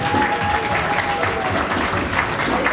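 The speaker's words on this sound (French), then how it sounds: "Est-ce qu'on peut applaudir pour notre" Loud, sustained applause from a crowd at a pastor's consecration and investiture ceremony, dense continuous clapping with a faint held tone running underneath.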